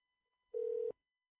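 A single short telephone tone sounds on a call line, one steady beep lasting under half a second, then silence.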